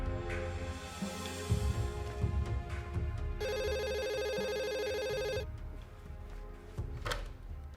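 A telephone rings in an Indonesian TV drama scene: one electronic ringing burst lasting about two seconds mid-scene, set among quieter background sounds and music.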